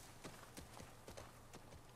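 A horse's hooves clip-clop at a steady trotting rhythm in The Last of Us Part 2 video game, a run of quiet, evenly spaced hoof strikes on hard ground with no talk over them.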